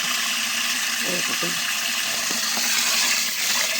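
Water rushes and splashes steadily as paddy seeds are poured in for soaking, with voices talking over the pouring.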